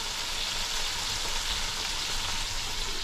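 Food searing in a hot pan gives off a loud, continuous sizzle, close and unbroken, with a faint crackle layered through it and no voices.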